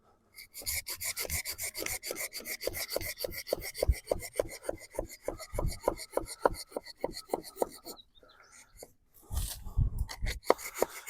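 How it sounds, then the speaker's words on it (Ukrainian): A cheap hand saw cuts through a green, damp tree branch with quick, rhythmic rasping strokes, loud and close. There is a brief pause near the end before a few final strokes. "І також попиляємо цю гілочку."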